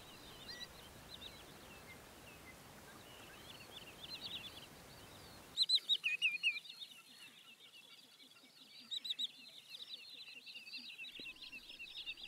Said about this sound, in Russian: Свое смешное имя эти кулики получили из-за двухсложной позывки, похожей на словосочетание «фифи».